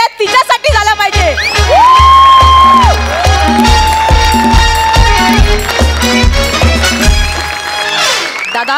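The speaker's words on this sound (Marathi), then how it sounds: "एकदा जोरदार टाळ्या तिच्यासाठी झाला पाहिजे." A studio audience loudly cheers and whoops for a contestant at a Marathi stage show, with scattered shouts and some applause over bright background music.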